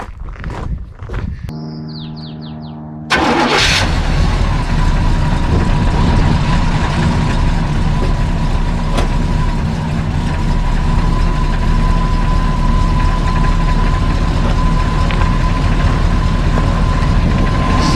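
A 1973 GMC C2500 pickup cranks with a whining starter and a few clunks, then its engine catches and settles into a loud, steady idle that runs on close by.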